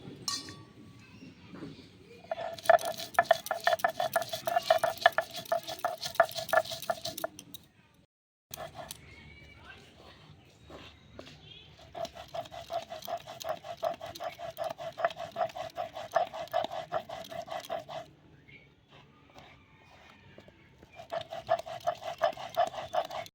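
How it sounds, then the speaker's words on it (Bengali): Garlic cloves and pieces of ginger ground into a spice paste on a stone, heard as steady rhythmic clinking and scraping strokes in long bursts with short pauses between, close and fairly loud. "এবার কয়েক পিস আদা, এগুলোকে সব ভালো করে বেটে নিই আগে"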